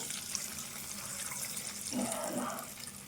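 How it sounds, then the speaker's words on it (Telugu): Thick tamarind extract poured into a pan of fried tempering for a drumstick pickle, a steady liquid splash and trickle close by with a brief thicker gurgle near the end, no talk. "ఈ చింతపండు సూపు చిక్కగా తీసి ఇందులో పోసుకోవాలి"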